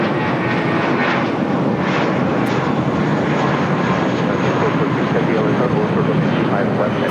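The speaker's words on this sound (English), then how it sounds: "Volaris flight 7837, A320 now rolling down 25 right." Loud, continuous broadband roar of a Volaris A320 airliner rolling down the runway at LAX, steady and close throughout, with a voice talking over it.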